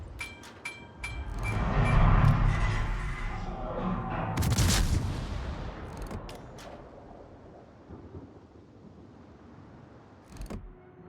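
Naval guns from a warship in World of Warships fire in a deep, rumbling salvo that swells and fades, followed by sharper distant cracks and a final thump, with no voices.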